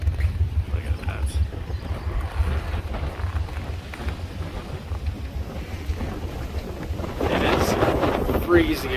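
Wind blowing hard across a microphone outdoors in cold, snowy Winnipeg, a steady low buffeting roar with gusts that strengthen near the end.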